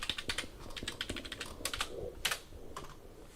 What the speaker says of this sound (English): Of course you have to type in the password